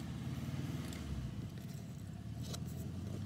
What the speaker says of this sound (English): Can you hear that bus pulling in?